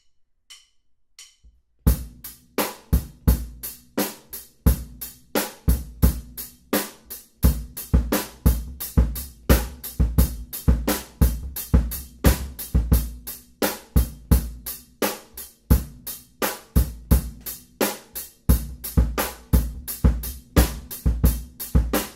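A punchy drum groove loops steadily through a four-bar phrase, kick and snare hits in a syncopated dotted-eighth-note rhythm, repeating evenly without any voices.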